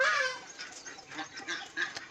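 A group of ducks honking and quacking on a village farm, a busy overlapping chorus of nasal calls close by, continuous with no talking.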